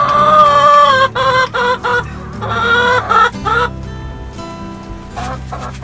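Hens cluck loudly and close by inside a chicken coop on a windy, rainy winter day, giving bursts of squawking cackles over a low rumble of wind.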